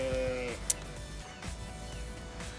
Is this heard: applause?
no